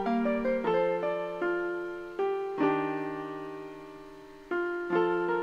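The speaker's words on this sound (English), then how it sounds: "So I just made this melody really quick, which sounds like this" Soft synth melody programmed in Logic Pro, with mellow sustained notes and chords struck a few times and each slowly decaying, played alone and clean in a moderate, unhurried rhythm.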